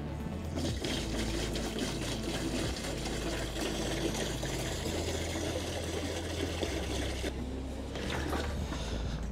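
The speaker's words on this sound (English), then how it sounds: "now we can put some water in" Water is poured into the spray tank of a DJI Agras agricultural drone, making a steady, soft, continuous gushing trickle with a low background hum.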